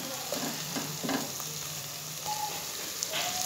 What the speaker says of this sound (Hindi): तो फिर से हम भून लेंगे अच्छे तरीके से